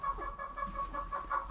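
Hens cluck softly and steadily nearby, a low continuous murmur of farmyard chatter.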